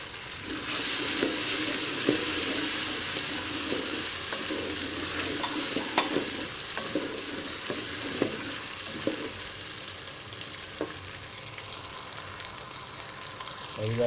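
Tomatoes frying with garlic in a pan for a moong dal gravy, a steady broadband sizzle with irregular scraping and clinking stirring strokes throughout, close and continuous with no talking.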